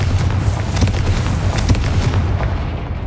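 A Confringo fire spell erupts in the Hogwarts Legacy video game, giving a dense, rumbling blast with crackling bursts that roll on for a few seconds before tapering off.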